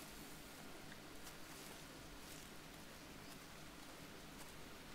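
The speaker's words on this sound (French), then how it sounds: "Il pleut." Steady rainfall in the jungle survival game Green Hell, a soft even hiss of drops on foliage and ground throughout, with a few faint taps and no voices.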